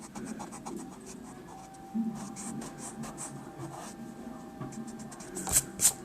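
A pencil sketches light construction lines for a face drawing on paper, producing faint, soft scratching strokes in short repeated passes, close and quiet, with a couple of sharper scrapes near the end.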